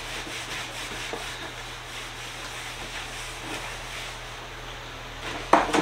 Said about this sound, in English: Let's see what that looks like with some WD-40. Just gonna rub it really light because I don't want to pull that sticker off.